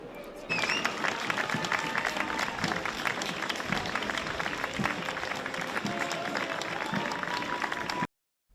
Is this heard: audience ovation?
yes